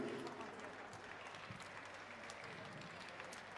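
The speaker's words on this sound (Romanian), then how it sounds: "Da, aplauze pentru Ghiuri." Audience applause at a live concert in a beer hall, a steady, fairly faint wash of many hands clapping heard from a distance, with a few voices mixed in.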